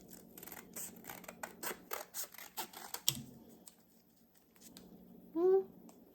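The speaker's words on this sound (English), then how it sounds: "I can just cut them." Scissors snip through paper pieces for a wedding-themed junk journal, a quick series of crisp cuts up close, then a brief pause and a final short rustle.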